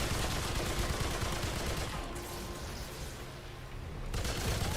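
Gunfire from a magazine being emptied in the game Remnant 2, a dense, rapid stream of shots rolling on continuously, dipping briefly in the middle, then surging back loud and sustained.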